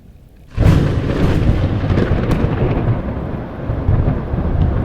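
A heavy nighttime downpour begins abruptly after a moment of near quiet, and rolling thunder rumbles beneath dense, steady rain that continues loud and constant to the end.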